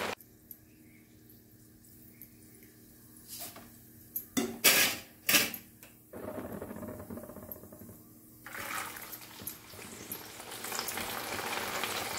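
Karakkadalai, spiced peanuts, frying in hot oil: a soft steady sizzle with a few sharp clinks of a utensil against the pan partway through, then louder bubbling toward the end.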